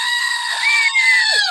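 A voice imitating a goat scream, one loud, strained, wavering bleat-like cry held for over a second, close and alone.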